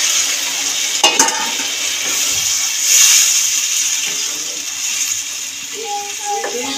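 Water goes into spiced vegetables frying in a pan for a Bengali fish curry, then the mix is stirred, with a hissing sizzle, occasional spoon knocks and a voice talking over it.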